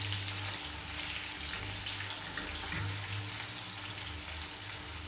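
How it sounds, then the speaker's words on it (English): Onion, garlic and other aromatics sautéing in a pan for Jamaican salt mackerel with susumber, a soft, steady sizzle and crackle heard close up, faint and continuous with a low hum underneath. "So I'm just gonna allow this to saute until translucent."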